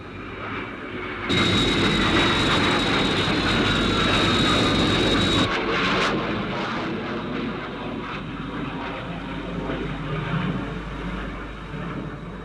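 Sky 1, the interceptor aircraft from the TV series UFO, roars past in a loud, steady broadband engine rush for several seconds, then fades to a lower lingering rumble.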